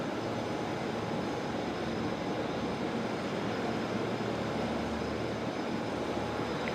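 A Fokker 100 jet at Brisbane Airport gives a steady, loud engine roar that holds unbroken throughout, with no voices.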